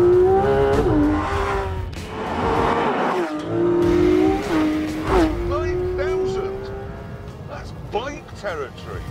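A Porsche 911 GT3 RS with a naturally aspirated 4-litre flat-six and 9,000 RPM redline accelerates hard, its rising engine howl climbing through repeated gear changes, loud and close, then fading into shorter revs.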